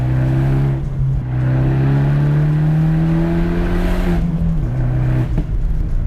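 An Abarth 124 Spider engine revs up and drops in pitch through a manual gearbox, with clear gear changes and a blipped heel-toe downshift, loud and close from inside the car.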